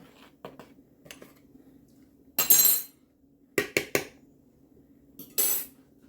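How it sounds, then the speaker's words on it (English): Oil and flour being mixed in a bowl for drop biscuit dough, heard as scattered scraping and clattering strokes, a few louder bursts of utensil against the bowl between quiet gaps, with no talking. "So now we're going to start mixing that up."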